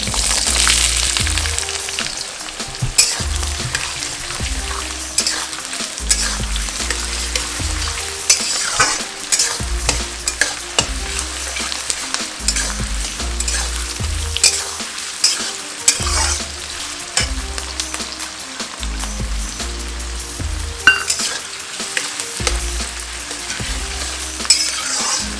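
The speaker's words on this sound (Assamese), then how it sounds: "এতিয়া মই প্ৰথম তেলত তেজপাত 2 খিলা দিছোঁ আৰু ইয়াত গোটা গৰম মছলাকেইটা দিছোঁ।" Bay leaves and whole garam masala spices frying in oil in a kadai for an Assamese local chicken curry, a steady close sizzle with repeated stirring scrapes and occasional clinks throughout.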